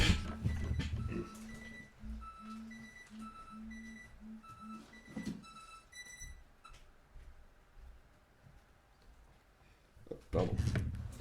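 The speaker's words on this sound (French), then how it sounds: "J'ai un petit réveil qui s'est mis en place." A small alarm clock goes off with a repeating electronic beep pattern, steady rhythmic bleeps for several seconds before stopping, with a brief voice at the start and end.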